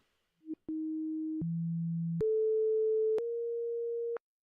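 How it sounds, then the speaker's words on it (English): Resonant filter tones from a Hydrasynth synthesizer, sounding as a series of steady, sustained pitches that step to a new note every second or so, each one clean and alone with no talk. "you hear how that resonance is a different pitch on each one of these."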